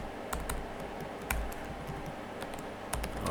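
Someone types code on a computer keyboard with a steady patter of close, crisp key clicks and a few louder strokes mixed in.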